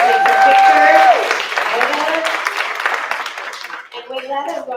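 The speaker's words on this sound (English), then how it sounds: "One more round of applause as she takes her picture." An audience at a school district board meeting applauds as an honoree poses for a photo, sustained clapping mixed with voices and a brief tonal sound that thins out toward the end.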